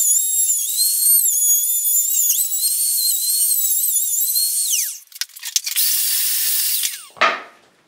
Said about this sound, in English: I'm just going to use a small laminate trimmer to trim this out.